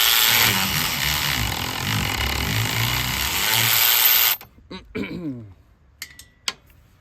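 A Milwaukee power tool strains against the clutch bolts of a brush hog, a loud continuous grinding whir that runs for about four seconds, then cuts out, leaving a few short clanks and rattles.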